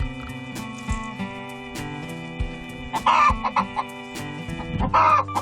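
A hen seeking a place to lay an egg clucks repeatedly in short, uneven bursts, growing louder and more agitated toward the end, with a steady hum beneath.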